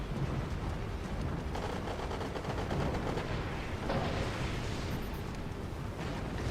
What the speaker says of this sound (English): We've got 30 caliber machine guns.